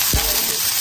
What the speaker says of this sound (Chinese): 葱姜蒜爆香